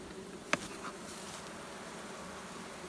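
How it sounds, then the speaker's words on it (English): A steady buzz from many bees in a hive preparing to swarm fills the air, low and continuous, with one brief sharp click near the start. "bees in the hive"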